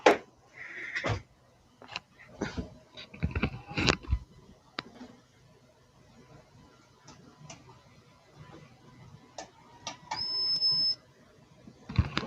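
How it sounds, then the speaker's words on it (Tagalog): A remote-controlled electric fan module beeps after being plugged in: scattered clicks and handling knocks lead up to a single sustained high electronic beep near the end, with faint voice in the background. "may maririnig kayong nagbi-beep na sound"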